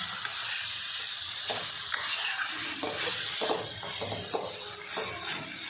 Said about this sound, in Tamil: ஒரு 2 நிமிஷம் மட்டும் நம்ம ஹை ஃப்ளேமில் இதை நல்லா ஃப்ரை பண்ணிக்கலாம்